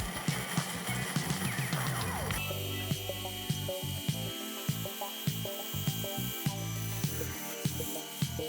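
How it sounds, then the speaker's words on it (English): A bandsaw cuts close to a marked line on a Damascus steel axe head: a steady motor hum with a faint whine, overlaid by close rhythmic ticking and rubbing as the blade works the piece. "I'm using the bandsaw to cut it as close to the line as possible"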